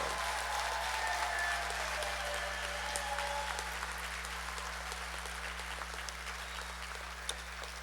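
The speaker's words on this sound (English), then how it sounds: "please give them a tremendous round of applause" Sustained applause from a large convocation audience fills the hall for a graduating Faculty of Education and Humanities class at the University of Guyana, steady and fairly distant over a low electrical hum.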